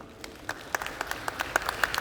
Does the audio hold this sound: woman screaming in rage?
no